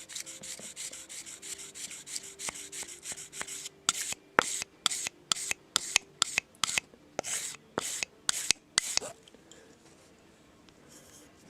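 A knife blade drawn along a sharpener in a series of repeated short, crisp rasping strokes, close and fairly loud in the middle stretch, with softer scraping before and after and no talk.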